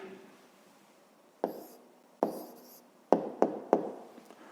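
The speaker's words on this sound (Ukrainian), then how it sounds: "Записуємо відповідь." Pen or pencil writing on paper during a grade 5 maths exercise: a few sharp taps and short scratchy strokes, close and fairly quiet, with pauses between them and no talking.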